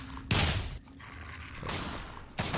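Gunfire in the video game Fallout 3, with a few loud, close shots and bursts separated by short pauses.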